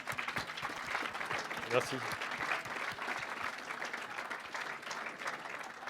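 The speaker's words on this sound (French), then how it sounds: "Et je crois qu'on peut vous applaudir." An audience applauds at a French science talk event, a soft, dense patter of many hands that continues throughout while a voice speaks briefly over it.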